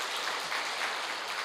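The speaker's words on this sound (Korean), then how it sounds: "자, 박수 한번 쳐주세요." Applause from a church congregation during a Sunday worship service, a steady, dense wash of clapping filling the room for a brief moment with no voices over it.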